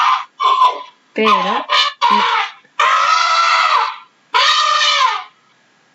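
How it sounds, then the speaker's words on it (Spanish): An elephant trumpets in a series of loud, close, brassy blasts, several short calls followed by two long sustained trumpets with silent gaps between them. "Ahora voy a poner el sonido de un elefante."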